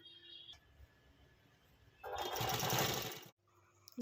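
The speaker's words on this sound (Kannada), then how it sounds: "ಅದಕ್ಕೆ ಇದನ್ನು ಸ್ಟಿಚ್ ಮಾಡ್ಕೊಂಡ್ಬಿಡ್ತೀನಿ" Sewing machine stitching pieces of old jeans fabric together into a mat, a steady whirring run of about a second after quiet handling noises, close and fairly soft.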